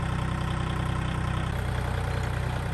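A tractor engine runs at a steady idle nearby, a constant low throbbing rumble with no changes in speed and no voices over it.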